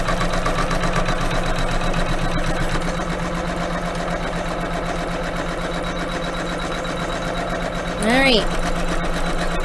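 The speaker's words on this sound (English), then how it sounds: "I am now going to stitch the next stitch of the quilting file, which is just going to tack down this particular fabric" A computerized embroidery machine runs steadily, stitching a quilting design that tacks down fabric on a pillow block, a constant mechanical hum and rapid needle rhythm throughout, with brief speech near the end.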